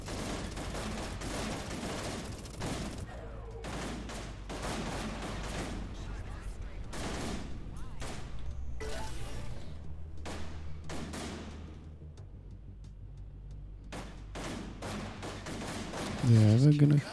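Spaceship weapons fire in the space shooter game Everspace 2, repeated sharp blasts in irregular bursts, fairly faint under a steady engine hum, with a player's voice talking at times.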